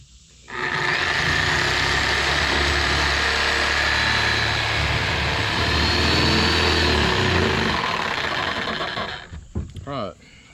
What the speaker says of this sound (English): I'm just going to take the sawzall and cut that out real quick.